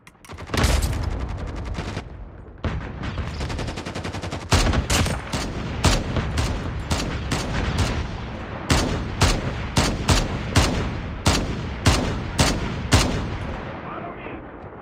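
Airstrike gunfire and explosions from Call of Duty Mobile in Battle Royale mode: a loud, sustained barrage of rapid shots opens, then sharp blasts land in a steady rhythm near the listener, with no talk.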